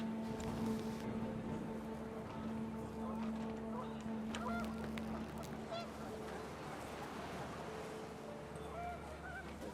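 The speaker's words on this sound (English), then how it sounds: "The wind picked up and panicked geese appeared and quickly went." Geese honk in the video game What Remains of Edith Finch, a scatter of faint honks over a steady windy, noisy background.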